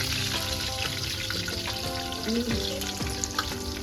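Curry leaves, cumin, mustard seeds and garlic sizzle in hot oil for a potato bhaji, a close, dense crackle with sharp spitting pops and no voices.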